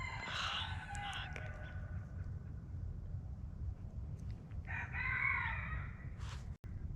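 Roosters crow near young cherry trees in an orchard, one loud crow at the start and another in the middle, over a constant low rumbling background, with a brief sharp knock near the end.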